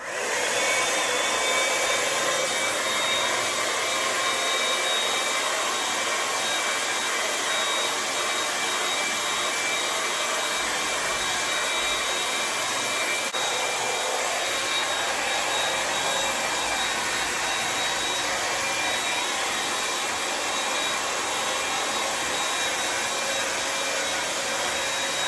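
Hair dryer airbrush set to medium blows steadily while drying hair, a loud continuous whooshing roar with a faint high whine, unbroken throughout.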